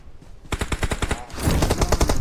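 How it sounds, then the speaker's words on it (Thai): Automatic gunfire in PUBG Mobile rattles out in rapid, evenly spaced bursts, with a second, heavier volley overlapping near the end, all loud and close. "ยิงไม่หยุดเลยเว้ย"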